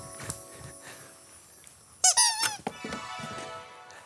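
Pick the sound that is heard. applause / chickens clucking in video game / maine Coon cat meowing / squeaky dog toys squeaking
squeaky dog toys squeaking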